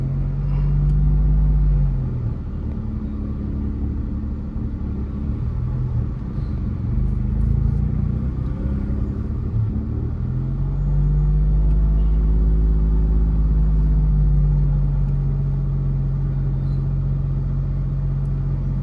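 Steady low engine rumble and road drone fill the cabin of a Suzuki Alto crawling through heavy city traffic, constant and close throughout with no talking.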